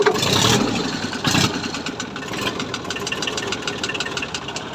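A three-cylinder diesel tractor engine rumbles to life with a couple of loud bursts, then settles into a steady, rattling idle close by.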